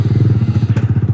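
A Yamaha R15 V3 motorcycle fitted with a Two Brothers aftermarket exhaust idles close by with a loud, steady, evenly pulsing burble and one brief higher crackle midway.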